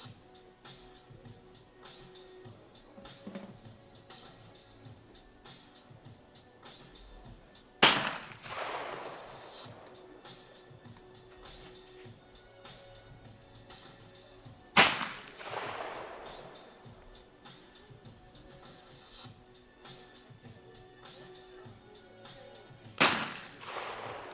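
Three loud, sharp shotgun reports ring out at a trap shooting team final, spaced several seconds apart. Each crack decays into a short outdoor echo over quiet background noise.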